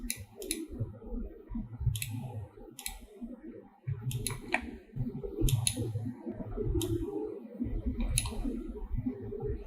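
A computer mouse clicks sharply in irregular bursts of single and double clicks, close and crisp. Low, soft background murmur runs underneath.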